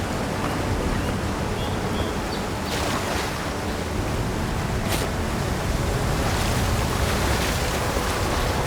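Rushing water from a waterfall in the video game Avowed pours as a constant broadband roar, steady and fairly loud throughout, with a couple of faint brief knocks and no speech.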